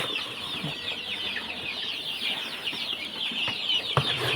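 A flock of around 150 hens clucks and chatters continuously nearby in a coop, a dense overlapping layer of calls with an occasional sharper squawk.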